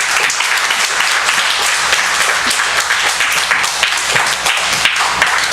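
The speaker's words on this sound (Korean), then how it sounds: "박수로 좀." Steady audience applause at a church missions gathering, loud and dense throughout as a missionary's wife is welcomed to the stage, with no talk over it.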